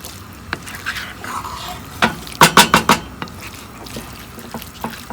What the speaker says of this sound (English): So I'm gonna stir this up.